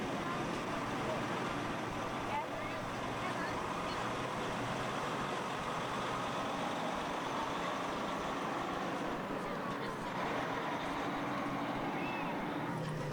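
A tractor engine roars steadily at an outdoor tractor pull during a 2001 centennial event in Plum Coulee, Manitoba, a loud continuous rumble that fills the whole clip.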